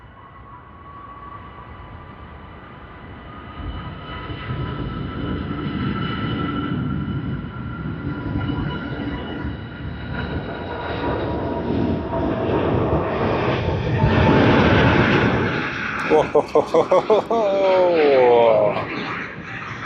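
Emirates Airbus A380 jet airliner at Sydney Airport, a broad engine roar building steadily to a loud peak with rapid rhythmic pulses near the end; a voice exclaims briefly.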